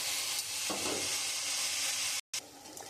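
A banana flower curry with chickpeas gets stirred in a hot pan, a close, steady sizzle with scraping stir strokes that stops briefly near the end.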